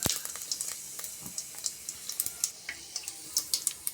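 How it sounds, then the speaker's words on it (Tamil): Asafoetida with cumin and fenugreek seeds splutters in hot oil in a pan: quick, irregular crackles and pops over a faint sizzle, close and fairly quiet. "பாருங்கள், பெருங்காயம் போட்டு பொரிஞ்சிச்சு."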